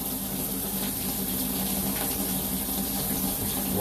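Water runs steadily from a tap in a continuous, loud broadband rush with no pauses, close to the microphone and with no voices.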